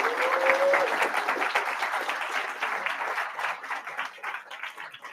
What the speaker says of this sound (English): So I want you to give yourself a round of applause for making that investment in yourself.